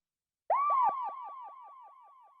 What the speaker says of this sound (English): Then we have this woo sound.